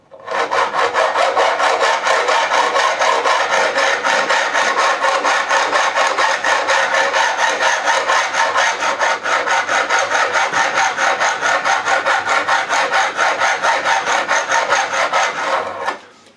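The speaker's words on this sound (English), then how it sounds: "Thing about using a super flat file is it's going to remove a lot more material than sandpaper can." A flat file rasps back and forth across the frets of a 1983 Burny Les Paul Custom during a refret, giving loud, close, rapid even strokes for about sixteen seconds with no talking.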